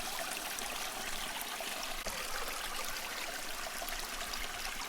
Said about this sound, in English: stand inside the water as it falls around you to the earth